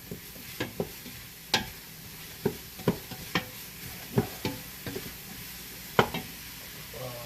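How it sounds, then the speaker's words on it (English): Seasoning stirred into sizzling onions, jalapeno peppers and garlic, a bed of frying hiss broken by a dozen irregular clacks of a utensil against the pan, close and clear with no talking. "I'm going to add all my seasoning right to the onions and the pepper, or the onions and the jalapeno peppers and garlic. Mix that in."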